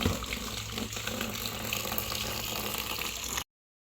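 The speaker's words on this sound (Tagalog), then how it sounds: "Ito po ang dala ko timba. Ayan po ako sasahod ng tubig." Water from a tap pouring into a bucket, a loud, steady splashing rush that stops abruptly near the end.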